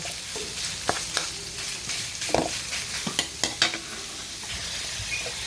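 Ground meat stir-fries with chayote in a pan, with a steady low sizzle and scattered scrapes and clinks as it is stirred, close and alone without voices.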